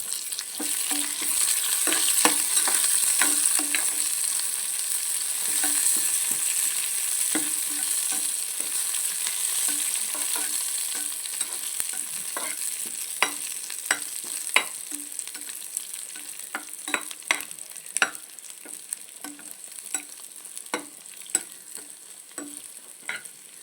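Onions fry in hot oil for a traditional roasted-coconut chicken curry, a steady bright sizzle with frequent clicks and scrapes of stirring that grow sparser and quieter toward the end.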